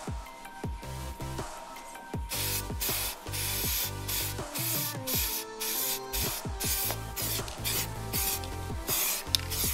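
Aerosol spray can hissing paint onto a car's wheel barrel in repeated short bursts separated by brief pauses, close and clear, with faint rattles and rubbing between sprays.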